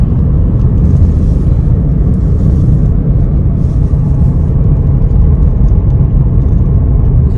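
Car engine and road rumble from inside a moving vehicle beside a wheat field, a loud, steady low drone with whirring tire noise throughout and no talking.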